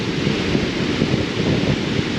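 A powerful river fed by Peyto Lake rushes through a carved rock canyon on the Icefields Parkway, a loud, continuous roar of churning water close by, with no voices over it.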